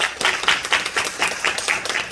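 Theatre audience clapping for the staff at a curtain call after a daytime musical performance, moderately loud and close, with rhythmic swells of clapping throughout and no talk.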